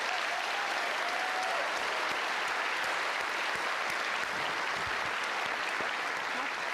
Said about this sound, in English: let's give them another round of applause here